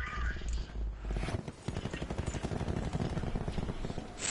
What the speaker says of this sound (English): I heard my brother's gunshot.